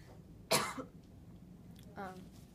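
A single sharp cough, followed after a pause by a softer throat-clearing sound, in a quiet room.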